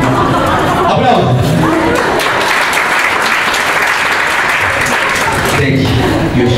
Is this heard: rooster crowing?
no